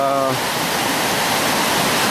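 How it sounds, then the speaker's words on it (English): The River Turret rushes powerfully past the bank as a loud, steady broadband roar of flowing water, with a brief voice at the very start. "you can see the power of the river turret as it's coming through here"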